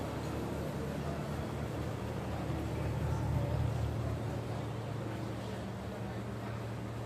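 Passenger launch Sundarban 14 at Sadarghat, Dhaka at night, a steady low engine drone with broadband water and wind wash, swelling slightly mid-way and holding constant throughout.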